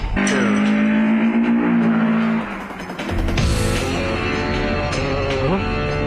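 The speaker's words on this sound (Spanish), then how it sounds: "No es el auto de nuestro equipo, es un MR2." Toyota MR2 engine in an anime street-racing scene on a mountain pass: a loud, sustained high-revving engine roar that drops briefly mid-clip, then surges again with shifting pitch, close and continuous.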